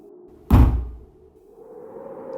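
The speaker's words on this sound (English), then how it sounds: "Now more knocking and tapping, all around us, every window, every wall." A single loud heavy thump of something slamming against a door in a creepy blizzard horror story, followed by a low, muffled rumble of wind-like background noise.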